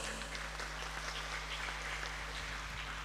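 Audience applause at an NU gathering in Keerom regency, Papua, heard as a steady, moderately faint patter of clapping over a low hum from the hall's sound system.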